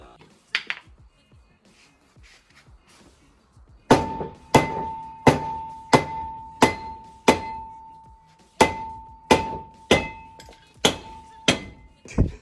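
A hammer pounds a stuck brake rotor off a car, about a dozen loud, ringing metallic blows at a steady pace with a lingering tone, preceded by brief voices and handling noises.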